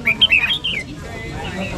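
Birds for sale at a rural market give a rapid run of sharp, high squawks and chirps up close, then fade into a murmur of market background noise.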